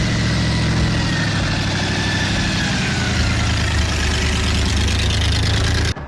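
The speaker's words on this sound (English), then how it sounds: "This is twin mill with two Chevy Big Block engines that are supercharged." The Twin Mill car's two supercharged Chevy big-block engines idle with a loud, deep, steady rumble and rhythmic pulsing throughout, close up and without voices, cutting off sharply at the end.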